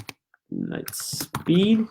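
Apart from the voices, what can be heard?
typing on a computer keyboard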